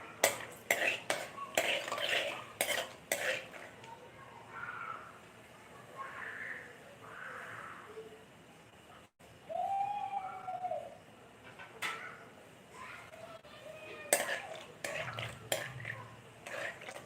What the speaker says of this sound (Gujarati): શરૂઆતમાં આપણે તેલ ગરમ થાય એટલે મગફળીના દાણા ઉમેરી દેશું